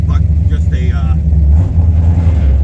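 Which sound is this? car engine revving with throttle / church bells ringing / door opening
car engine revving with throttle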